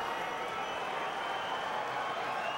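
A capacity crowd of over 16,000 roars in a boxing arena at a title fight, a dense, steady wash of cheering and clapping with indistinct voices mixed in.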